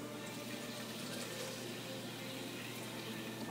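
Water poured into a blender for making rice, a faint steady stream with a soft continuous splashing hiss.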